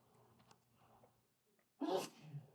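A single loud sneeze bursts out in a quiet university thermodynamics lecture room, following a stretch of soft, distant murmuring.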